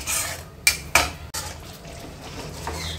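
Masala being stirred and roasted in a pan for Hyderabadi mutton mahi khalya: a couple of sharp metallic clinks of a spoon against the pan, then softer scraping and sizzling, close and clear with no talking.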